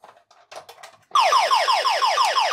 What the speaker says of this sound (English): when I open this panel lid, as it will for you, it's going to trigger a tamper alarm